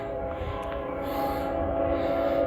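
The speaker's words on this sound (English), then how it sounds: "Wow, that horn's pretty loud." Loud, steady horn of a long freight grain train with mid-train distributed power units at a Guthrie, Kentucky crossing, sounding continuously over the rumble of rolling cars.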